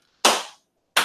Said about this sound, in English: Give him the donkey of the day claps